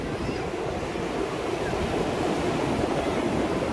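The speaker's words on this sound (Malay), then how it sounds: "dengan derak ombak" Ocean waves breaking on a beach in Sabah, a steady, continuous roar of surf with wind noise throughout, close and fairly loud, with no talking.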